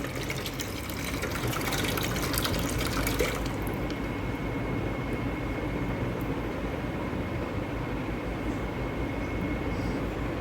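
Coconut water pours steadily in a continuous splashing stream, close by and fairly loud, with no voices.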